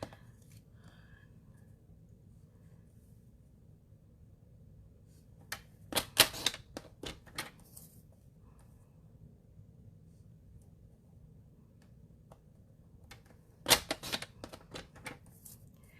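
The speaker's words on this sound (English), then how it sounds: "so now I'm just going to cut 1-inch sections" Paper being cut into one-inch sections for a fun fold card, two separate bursts of crisp snipping and rustling against a quiet background, with no talking.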